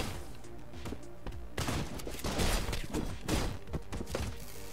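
Video game gunfire and chaotic combat in Katana Zero, with dense overlapping shots, thuds and crashing impacts that get louder partway through and keep going without a break.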